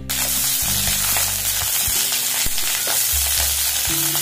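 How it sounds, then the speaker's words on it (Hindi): Pointed gourd (parwal) fries in hot oil in an iron pan, giving a loud, steady sizzle with occasional stirring scrapes throughout. "त आब ई पटल हम पहले से भूजै छी"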